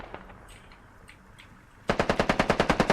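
Automatic gunfire from the tactical shooter game Squad, a rapid, evenly spaced burst of about a dozen loud shots that erupts suddenly after a quiet stretch of faint ambient battlefield noise.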